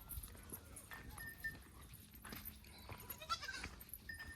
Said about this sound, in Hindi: बकरी का छोटा बच्चा है, क्यूट सा